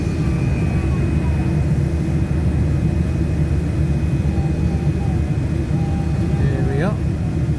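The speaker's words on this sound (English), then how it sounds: "Hopefully we're just going to carry on going down the runway and straight up." A Boeing 787-8 rolls down the runway for takeoff from London Heathrow, a loud steady low engine roar and cabin rumble filling the cabin, with a brief chime-like tone near the end.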